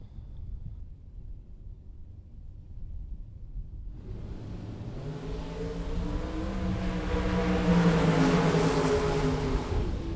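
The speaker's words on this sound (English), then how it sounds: "In the burnout box over in the Pennzoil side." A blue 1963 Corvette drag car revs in the burnout box at Las Vegas Motor Speedway, its engine rising from a low rumble into a loud, sustained roar that builds and holds at high revs.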